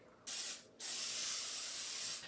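Baker's Joy baking spray greasing 9-inch cake pans, heard as two close, loud hissing sprays, a short burst followed by a longer sustained one, with no talking.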